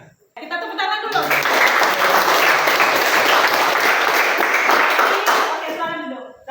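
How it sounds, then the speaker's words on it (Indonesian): A classroom of students clapping together in a sustained burst of applause lasting several seconds, fairly close and even, with a short voice before it starts and as it fades. "Kita tepuk tangan dulu."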